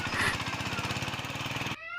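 A voice imitates a shallow irrigation pump engine, a fast, steady, rattling chug held close for about two seconds before stopping abruptly.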